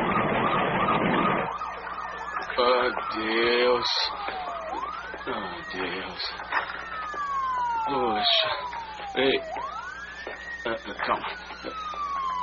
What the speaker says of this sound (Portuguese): Tem uma ambulância chegando.